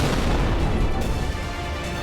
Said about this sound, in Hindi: बम ब्लास्ट हुआ है लाल किले के सामने। दिल्ली के दिल में धमाका।